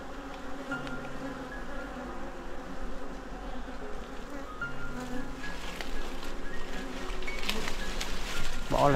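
Bees swarming around a wild bee nest on a bamboo hill, a continuous droning buzz of many insects that swells slightly toward the end, heard close up with faint outdoor background noise.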